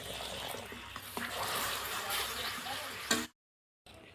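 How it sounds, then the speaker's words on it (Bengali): A little water is poured into hot sugar caramel in a pan, off the gas, while making a fruit cake. A quiet hissing, bubbling sizzle lasts about three seconds, cuts off abruptly, and a voice is faintly present. "এবার আমি অল্প জল দিয়ে দেব।"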